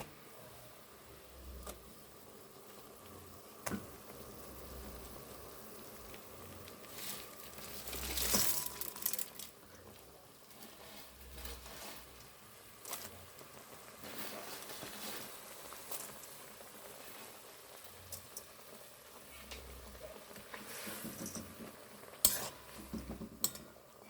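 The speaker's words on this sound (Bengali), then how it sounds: "আমার জলটা ফুটে গেছে, এবার আমি ম্যাগিগুলো অ্যাড করে দিচ্ছি।" Water boiling in a pot as Maggi noodles go in, a quiet continuous bubbling sizzle with occasional stirring scrapes and clinks of a utensil against the pot.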